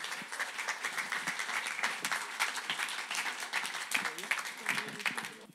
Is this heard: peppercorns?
no